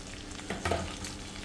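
Mint leaves frying in a pan for a spicy mint chutney, giving a soft, steady sizzle with a brief stirring scrape near the middle. It is fairly quiet and close, with no talking.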